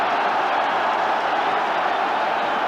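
Football stadium crowd backing Ipswich Town during a UEFA Cup match against Widzew Lodz, a steady, loud roar of massed voices that holds evenly for the whole stretch.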